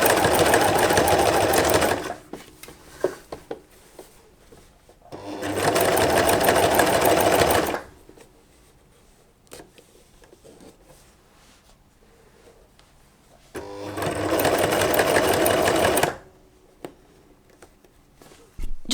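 A sewing machine hemming trousers, running in three loud, steady whirring bursts of a few seconds each, separated by quieter pauses with faint handling noises.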